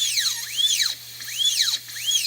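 A rotary tool burr carving into a duck eggshell while being forced by hand, giving a high whine that repeatedly dips and bogs down in three sweeping cycles, stalling and recovering, close and fairly steady.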